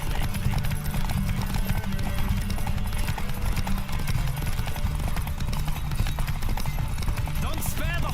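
Horse galloping in The Witcher 3: Wild Hunt, continuous rapid hoofbeats pounding steadily throughout, with game voices and a player talking over the rhythm.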